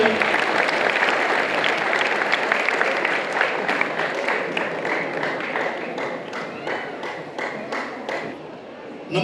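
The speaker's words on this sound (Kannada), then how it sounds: "ಜೋರಾದ ಚಪ್ಪಾಳೆ." A large audience claps loudly and continuously, a dense wash of applause with individual claps growing more distinct as it thins toward the end.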